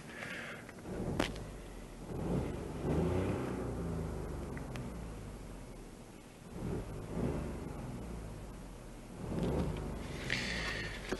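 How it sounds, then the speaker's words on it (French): Engine of a 2016 Ford Fiesta ST-Line heard from inside the cabin, a low rumble that swells and fades over several revs, moderately loud and with no talking. "Bon, maintenant on va voir le bruit de la voiture."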